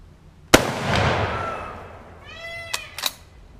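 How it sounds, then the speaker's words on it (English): A sharp gunshot-like bang from a .308 Oviedo Mauser rifle rings out, followed by a couple of wailing, cat-like peacock calls in the background and two brief pops. "then you hear the peacocks in the background."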